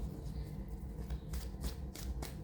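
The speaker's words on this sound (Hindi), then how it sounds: "Last shuffle." Tarot cards shuffled by hand in a few quick riffling bursts, close and quiet, with no talk over them.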